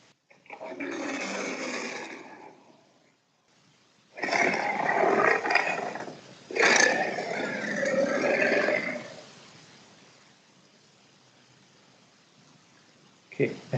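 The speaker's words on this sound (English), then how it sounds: "I'll move on with the demonstration of the sound of lion tiger" A recorded lion or tiger roaring, played as a sound sample for an animal sound recognition demo: three long, rough, rumbling roars separated by pauses, loud and close, with a short burst at the end.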